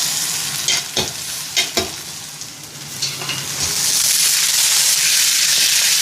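Boiled spinach tipped into a hot pan for a Telugu-style palakura fry, with a few soft thuds and stirring scrapes early on, then a steady, close sizzle of frying that swells and holds.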